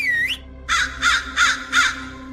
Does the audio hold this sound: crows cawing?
yes